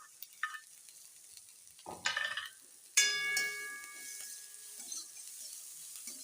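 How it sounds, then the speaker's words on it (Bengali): Chopped garlic and chilli hit hot oil in a pan alongside cooked mutton for do-piyaji, giving a sharp sizzle. Metallic scrapes and clinks of stirring come in short bursts, followed by a steady frying hiss. "এবার ভালোভাবে ভেজে নেব।"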